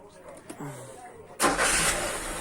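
A warmed-up Opel Vectra 1.8 engine fitted with a Solex carburetor starts with a sudden loud catch after a brief crank, then settles into a steady close idle.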